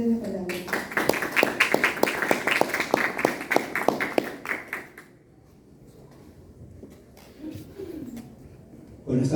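Audience applause at a university book presentation, a burst of many hands clapping for about five seconds and then fading to a quiet room with faint shuffling.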